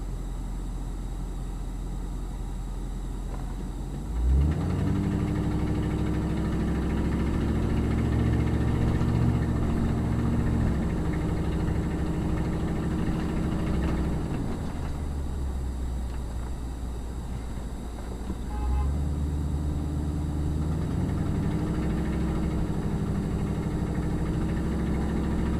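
A car rolls through Brooklyn streets with a steady, close engine drone and cabin hum, with two gear shifts where the pitch drops and climbs again, and no voices over it.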